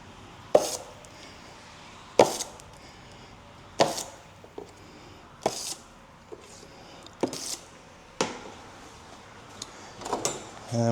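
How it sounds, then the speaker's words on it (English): Drywall joint compound scooped with a knife into a mud pan for hand finishing, about seven separate wet scraping knocks spread a second or two apart, close and moderately loud with quiet pauses between. "Gonna get some mud in the pan."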